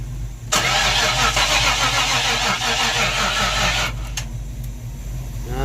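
A 1994 convertible car engine cranks on a weak, dying battery with jumper cables attached, a loud, steady starter churn lasting several seconds with no voices, then cutting off.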